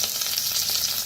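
Curry leaves and ground masala paste sizzling in hot oil for a kadhi vada recipe, a loud close crackling hiss with no voices.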